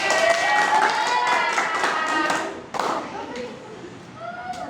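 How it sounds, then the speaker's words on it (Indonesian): Applause from a group during a character game, scattered claps mixed with loud overlapping voices, then tapering off with a few softer calls near the end. "Iya, tepuk tangan."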